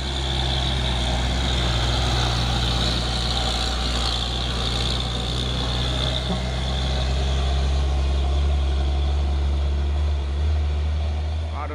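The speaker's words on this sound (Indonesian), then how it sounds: "Ada lagi dump truk Fuso dan di belakangnya truk Hino Jember itu" A Fuso dump truck followed by a Hino truck rolls along a road with a loud, steady, low diesel drone and passing traffic noise, continuous throughout, while a person talks over it.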